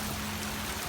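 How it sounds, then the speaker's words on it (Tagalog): Rain falls steadily at tennis courts during the Palarong Pambansa games in Agusan, a continuous even hiss with no voices. "so umuulan ngayon dito"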